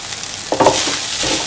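Green and red chillies frying in a pan with a bright sizzle and a stirring scrape partway through, loud and close with no talking.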